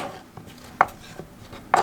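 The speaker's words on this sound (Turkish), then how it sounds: "Çekirdeğini doğradığımız biberimizi küp küp doğrayalım." Two sharp knife strikes on a cutting board about a second apart, cutting a seeded pepper into cubes, with faint lighter taps between them in a quiet room.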